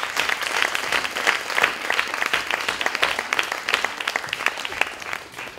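Applause from a crowd at an evening celebration event at the BBox, steady dense clapping filling the whole stretch at a fairly loud, even level without speech.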